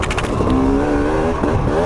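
KTM EN 300 two-stroke dirt bike engine close and loud while riding desert trails, a steady buzzing drone with rising pitch over small whoops, continuous throughout with no talking.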